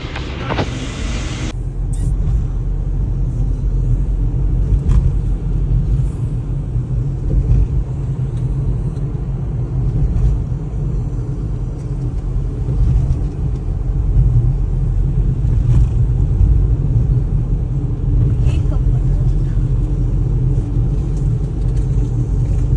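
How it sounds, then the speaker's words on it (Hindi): Congested road traffic on the way out of Shivpuri: a steady low rumble of cars and engines passing close, with occasional mechanical clicks and no talking. "ट्रैफिक देख लो, कल तो इतना बुरा हाल था, अब गाड़ी तो चल रही है"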